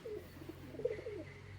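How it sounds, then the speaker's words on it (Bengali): A pair of aggressive pigeons coos in a few short, soft low calls close by, against a quiet hum. "বিরাট অ্যাগ্রেসিভ পায়রা একজোড়া"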